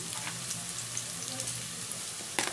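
Tomatoes tipped into a frying pan of sizzling, softened onions while cooking a prawn curry; a steady close sizzle runs throughout with a brief clatter near the end, no voices.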